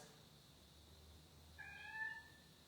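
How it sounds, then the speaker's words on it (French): A cat gives a single faint, drawn-out meow near the end, in a quiet room during a yoga class, with no talking. "J'adore le chat."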